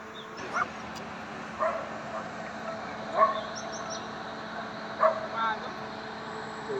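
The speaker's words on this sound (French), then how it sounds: "Seuls quelques chiens aboient." A few dogs bark at dawn at the Venezuelan border, several separate barks scattered at a distance over a low steady background rumble.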